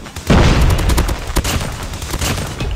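Rapid automatic fire from a PP19 Bizon submachine gun in the mobile shooter Call of Duty Mobile, a loud dense burst of cracking shots with booming low end, close and continuous throughout.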